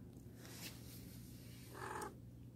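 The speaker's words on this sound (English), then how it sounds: "Sassy cat wants outside." A house cat purrs softly and steadily at close range, a low continuous rumble with a slightly louder swell near the end, with no talk.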